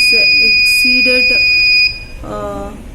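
An ESP32 health monitor's buzzer alerting on high body temperature: repeated high electronic beeps close by, a steady tone that cuts off partway, with someone talking over it.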